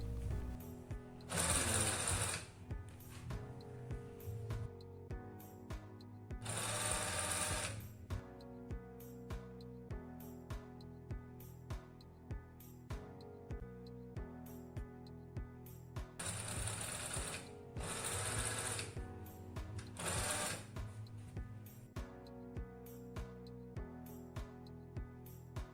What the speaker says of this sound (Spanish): vamos a realizar una costura sobre dos telas para ver que también cose algo más grueso